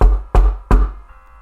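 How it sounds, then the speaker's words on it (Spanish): Three hard, heavy knocks strike a door at an even pace, loud and close, each one ringing out briefly before the next, with no voices. "Tocó la puerta."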